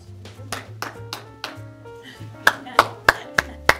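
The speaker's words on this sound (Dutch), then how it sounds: "U klapte net al prachtig voor de akoestiek." An audience claps in a hall, the Groen van Prinsterzaal, to test the room's acoustics, with a series of sharp, distinct hand claps ringing out over someone talking, growing louder toward the end.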